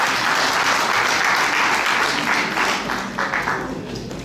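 Audience applause fills a live Haitian quiz-show challenge, a dense steady wash of clapping from a crowd that holds strong, then thins and tapers slightly toward the end.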